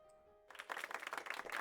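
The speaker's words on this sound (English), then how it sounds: "Suddenly, I heard the sound of clapping." Clapping in a visual novel game begins after a quiet stretch and continues as a steady patter of handclaps, moderately loud and alone.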